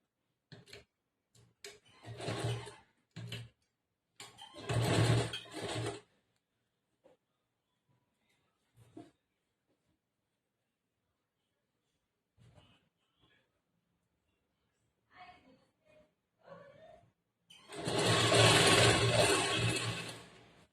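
A sewing machine stitches blouse fabric in short separate bursts, then a longer steady run at the end, with quiet gaps between.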